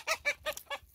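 Chickens on a farm cluck in four short, clear bursts, close and distinct with quiet gaps between them, nothing else over them.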